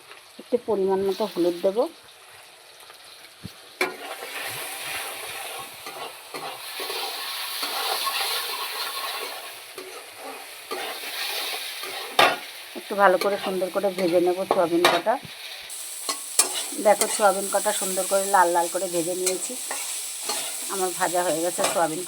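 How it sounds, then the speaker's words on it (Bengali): Soya chunks frying in a pan, a steady close sizzle with scraping stirs throughout, while someone speaks over it in intermittent stretches. "এবার সোয়াবিন কটাকে একটু সুন্দর করে ভেজে নেব"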